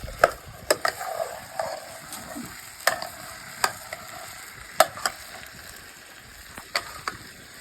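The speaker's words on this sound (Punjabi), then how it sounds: "ਪਹਿਲੀ ਰੋਟੀ ਆਪਣੀ ਚੁੱਲ੍ਹੇ ਤੇ ਤਵੇ ਤੇ ਹੁਣ ਚੜੀ ਹੈਗੀ" Roti cooks on a tava griddle over a chulha stove, with soft sizzling and irregular sharp clicks and scrapes repeating close by, no talking.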